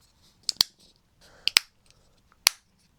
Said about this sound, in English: I'm going to close it back together now.